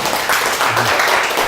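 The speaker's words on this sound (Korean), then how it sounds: "박수로 시작하겠습니다." Lecture audience applauding, close and fairly loud dense clapping throughout the brief moment.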